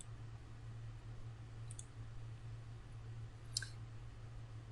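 A few soft computer mouse clicks while drawing circles in AutoCAD 2023, two brief faint clicks spaced over a couple of seconds above a steady low hum, no talking.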